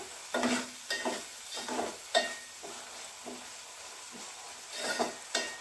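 Mung dal is stir-fried in oil, with a soft background sizzle broken by about a dozen distinct scraping spatula strokes at an uneven rhythm, close and fairly quiet, with no talking.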